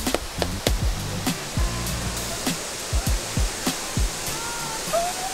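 A loud, steady waterfall roars close by as a constant wash of broadband rushing noise, with repeated low thumps and occasional buffeting on top.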